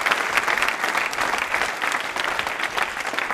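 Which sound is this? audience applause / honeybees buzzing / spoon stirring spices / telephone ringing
audience applause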